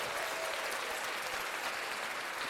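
Canned applause from a soundboard effect button, a dense and steady clapping crowd that fills the whole moment without any voices.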